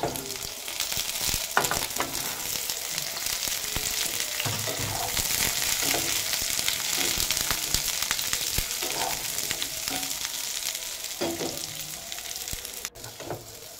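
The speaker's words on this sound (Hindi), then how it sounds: "आलू पुटल के टिके फ्राए कर देमी" Potatoes and pointed gourd fry in oil in a wok with a steady, dense sizzle. Faint stirring clatters now and then, and no voices are heard.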